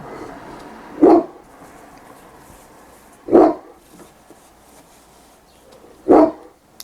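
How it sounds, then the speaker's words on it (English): Dog barking indoors nearby, three single sharp barks spaced a couple of seconds apart over a quiet background. "Oh, that's just being a guard dog."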